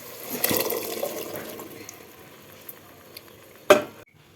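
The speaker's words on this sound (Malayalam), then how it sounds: "ഇനി നമുക്ക് കടല ചേർക്കാം." Chickpeas tipped into a simmering tomato curry in a pan, a wet splashing clatter followed by soft bubbling and stirring sounds that fade, then one sharp scraping knock near the end.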